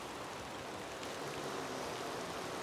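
Rain falls outdoors in a garden on a walk among Erythronium americanum plants, a soft, even patter and hiss with no voices, steady and fairly quiet throughout.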